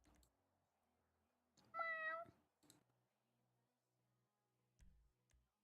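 A cat gives a single clear, drawn-out meow close by in a quiet room, followed by a few faint clicks and small knocks.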